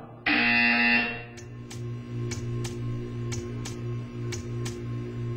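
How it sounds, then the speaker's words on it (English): A harsh electronic buzzer in the video game Portal 2 blares for about a second, then a steady mechanical hum continues with regular ticking clicks, no voices. "You will hear a buzzer."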